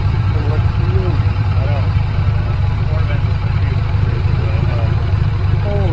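Ford 4.6 modular V8 car engine idling, a loud, steady low rumble close by with voices talking over it.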